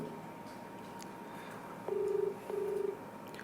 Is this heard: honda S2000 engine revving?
no